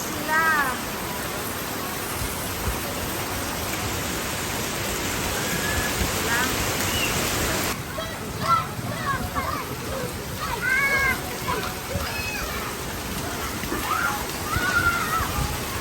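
Steady rain pours on a flooded neighbourhood while children bathe and splash in the floodwater, a continuous wash of water noise with faint shouts and voices in the background.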